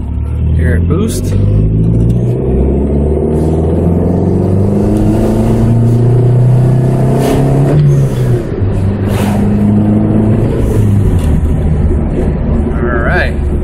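A 1987 Shelby CSX Shadow's turbocharged engine revs and surges continuously up close, its pitch climbing and falling with loud whooshes and whistling boost bursts, while people talk over it.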